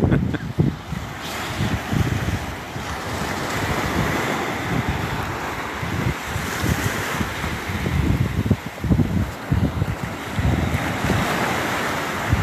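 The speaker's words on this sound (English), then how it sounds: "while you listen to the ocean" Ocean surf washing onto a beach, a continuous broad roar of breaking waves with wind buffeting the microphone, steady and fairly loud throughout with no talking.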